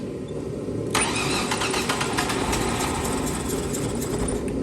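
A Ford Ranger engine cranks and catches about a second in, then settles into a steady, loud idle that runs on to the end with a slight uneven roughness.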